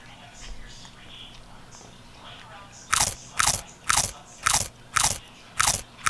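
Food being bitten and chewed during a home taste test: about seven crisp, regular crunches close to the mic after a few seconds of quiet.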